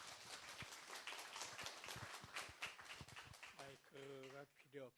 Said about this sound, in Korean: 우리 조성 선교사님 오셨는데 격려의 박수로 부탁드리겠습니다.